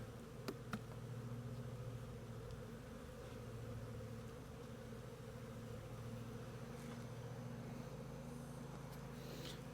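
Honey bees hum steadily around an opened hive, a close, even drone with a few faint clicks of a hive tool against wood and no speech.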